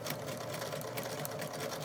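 A sewing machine stitches a quarter-inch seam on a fabric face mask, a fast, steady motor hum with rhythmic needle chatter running continuously and close up for about two seconds, with no talking.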